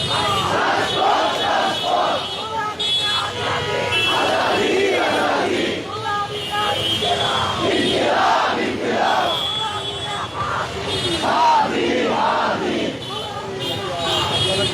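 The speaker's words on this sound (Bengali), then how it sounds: "নারায়ে তাকবীর আল্লাহু আকবার স্লোগানে কিন্তু মুখরিত" A large crowd of protesters chants religious slogans in loud, rhythmic unison in the Dhaka University area, with members of the Inquilab Mancha rallying. The voices swell and fall in repeated waves, dense and close throughout.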